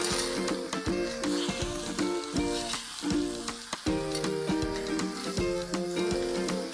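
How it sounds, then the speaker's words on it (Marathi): Chopped ginger and garlic sizzle and fry in a hot pan, with repeated scraping and stirring strokes giving a rhythmic pattern over the steady hiss, close and moderately loud. "अजून जरा 2 मिनिटं आपण परतून घेऊया"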